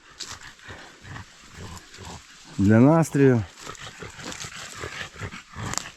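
Dogs in a forest during a mushroom hunt in Bukovina give a couple of loud, close, drawn-out yelps or howls in quick succession. Someone talks before and after them.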